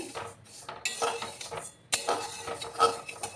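Mung dal fried in a pan for a bottle-gourd-greens dish, stirred constantly: a spoon scrapes and clanks against the metal pan in irregular bursts, with a faint sizzle beneath and no talking.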